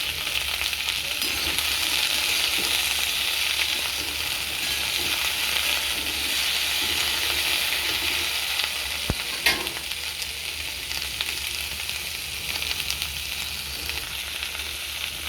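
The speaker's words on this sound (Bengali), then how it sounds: "আমি ঢ্যাঁড়সগুলো এভাবেই ভেজে নেব" Okra sizzles in hot oil in a pan, seasoned with salt and turmeric, a steady dense frying hiss held close and loud throughout, with one brief clink near the middle and no voices.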